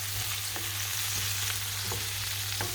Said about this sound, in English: So I'm browning my onions on number 4.